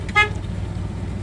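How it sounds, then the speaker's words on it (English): A 1967 Chevrolet Chevelle SS sounds its horn from inside the car, one short honk over the low rumble of the idling engine. "Inside our 67 Chevelle, horn,"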